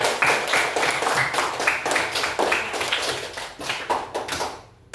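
A classroom gives a student group a round of applause, with dense, close, rhythmic clapping from many hands that fades out near the end.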